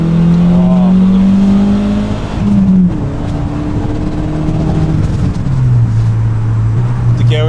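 A Mazda Miata or Nissan 200SX S13 pulls hard in second gear, engine note climbing steadily with a brief dip near the middle, loud and close from inside the cabin with a voice talking over it.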